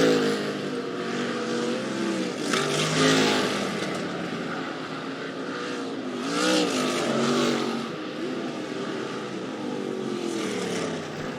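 Sprint cars race in a heat race at Rapid Speedway, their engines roaring loud and continuous as cars sweep past in waves, with no talk over the racing.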